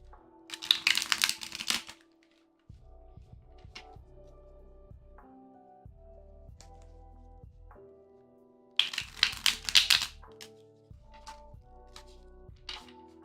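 A deck of tarot cards is shuffled in two loud bursts of riffling and flicking, one at the start and another near the end, with quieter taps and soft handling of the cards in between.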